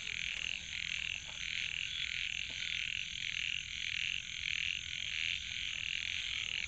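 Several frogs croak near a pond in a forest, a steady dense chorus of rasping calls that runs throughout at close range, with no voices.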